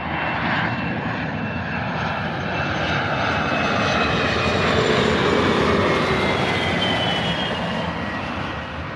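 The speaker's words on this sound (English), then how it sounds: "Loganair coming in." A Loganair plane lands at Manchester Airport, its aircraft engine roaring steady and loud throughout, close by with a broad whooshing drone and no talk.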